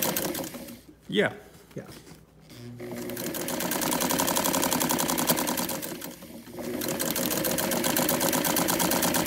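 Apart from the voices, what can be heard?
sewing machine running a loose gathering stitch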